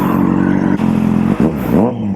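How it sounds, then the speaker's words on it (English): Kawasaki Z800 motorcycle engine starting up close and loud, then settling into a steady rumbling idle with a couple of brief revs. "So my bike is going to get started."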